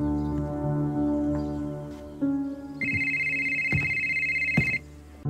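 A mobile phone rings in a film scene: a steady electronic ringtone tone holds for about two seconds over a low hum and scattered thuds, with no voices.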